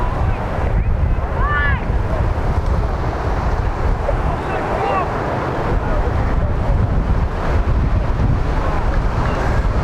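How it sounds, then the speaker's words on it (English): Strong wind roars across an outdoor soccer field during a youth match, buffeting the microphone in a loud, constant rumble that masks faint distant shouts and whistles. "Players are not adjusting to the speed of the wind and how it impacts their runs,"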